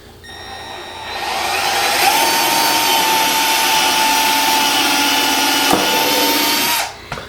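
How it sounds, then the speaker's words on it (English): A power drill bores pilot holes for self-tapping screws into a 45-degree angled piece for a garden project, spinning up to a loud, sustained high whine for about five seconds before winding down abruptly. "I like drilling holes first, even though the screws I'm using are self-tapping"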